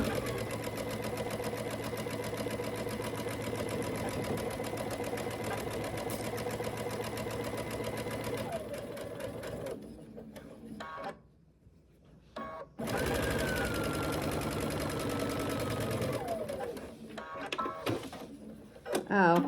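Sewing machine running steadily while stitching a quarter-inch seam on a sawtooth star quilt block, a close continuous whir that stops briefly partway through and then resumes.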